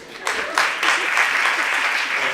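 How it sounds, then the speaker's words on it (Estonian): Audience applause at a forum theatre performance opening a festival, a dense burst of clapping that starts abruptly and holds steady and fairly close. "Teeme talle aplausi."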